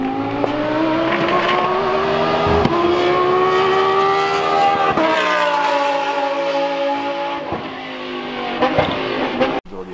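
A Lamborghini engine revs loudly and continuously at a racetrack, a sustained high howl with slight pitch swells and a brief dip before rising again, close and dominant with no talk.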